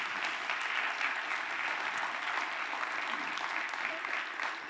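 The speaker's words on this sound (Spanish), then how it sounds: "un aplauso para ellos" Steady applause from a conference audience for a panel of five speakers at a strategic-companies event, a dense, even wash of clapping sustained throughout with no break.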